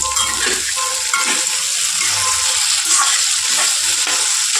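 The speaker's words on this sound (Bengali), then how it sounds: "আর এখানে আমি তেল দিয়ে কিছুটা আলু ভাজতে দিয়েছি" Potatoes frying in oil in a pan give a steady, fairly loud hissing sizzle that holds even throughout, with no talk over it.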